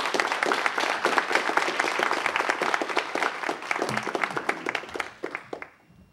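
A roomful of people applauds at a city council meeting, brisk sustained clapping that thins out and fades to quiet near the end.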